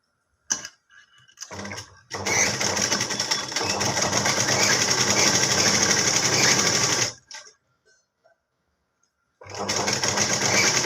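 A sewing machine stitches chudidar pant fabric in a couple of short bursts, then one long rattling run of about five seconds. It stops, makes a brief blip, falls quiet, then starts up again.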